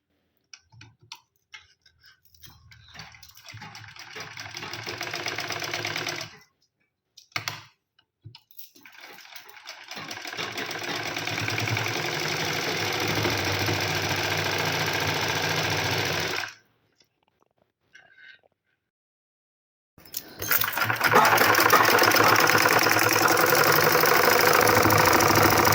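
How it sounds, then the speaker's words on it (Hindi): A sewing machine stitches baby boy shirt fabric in several loud, steady runs, stopping briefly between bursts with quiet gaps, then starting again for a final close run. "इसी तरह से इस मार्क के साथ साथ हमने सिलाई लगाते हुए यहाँ पर सिलाई को फिनिश करना है।"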